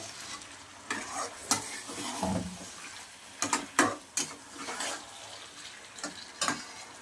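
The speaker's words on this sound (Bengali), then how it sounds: "চিকেন মশলা দিয়ে আমি একটু কষিয়ে নেব, ভালো করে কষাতে হবে।" Chicken pieces fry with chicken masala in a pan, giving a soft, low sizzle broken by irregular bursts of stirring, scraping and clattering as the spoon works through the mixture.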